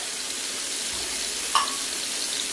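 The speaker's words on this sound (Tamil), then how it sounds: "ஸோ மீன் இப்போ வறுத்து எடுத்துக்கலாம்." Fish frying in oil in a pan gives a steady, moderately loud sizzle throughout, with one brief sharper crackle partway through.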